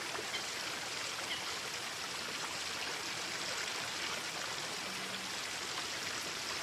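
Water runs steadily in a stream, a continuous broadband rush and trickle filling the whole stretch at an even, moderate level with no voices.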